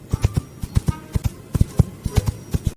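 Foley horse hoofbeats made by knocking stones together, imitating a running horse in a film: a quick, loud, close clip-clop rhythm of paired hard knocks repeating steadily.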